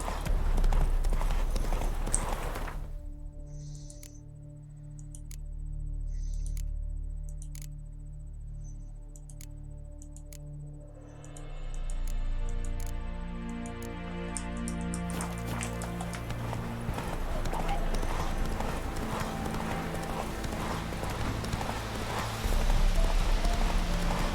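Hooves of the horse Roach clip-clop at a gallop through The Witcher 3: Wild Hunt, a steady rhythmic pounding that runs through the whole stretch over game music and ambience, loud and close.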